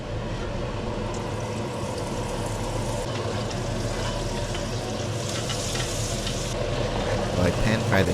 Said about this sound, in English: So I pan fry the fish and make somewhat of a veloute sauce or a white sauce